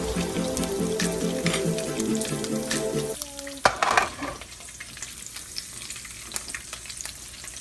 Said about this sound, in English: Just gonna fry until they brown a little bit on